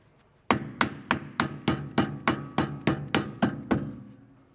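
Twelve evenly spaced taps of a rubber mallet striking a metal wheel-hub dust cap on a BMW E46 M3, firm and close, in a steady rhythm that gradually fades out.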